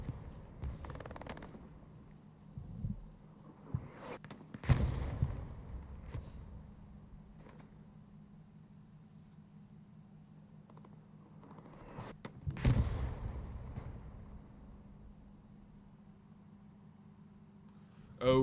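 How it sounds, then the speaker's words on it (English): Artillery booms in a military shooter game match, two heavy distant thuds several seconds apart over a low rumbling background, with faint scattered impacts between them. "Artillery coming out."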